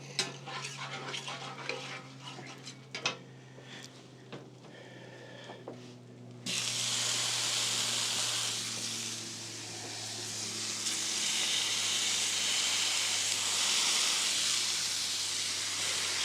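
Garlic Texas toast sizzles on a griddle in a steady, loud hiss that swells suddenly partway through, preceded by scraping and clinking of utensils over a low hum.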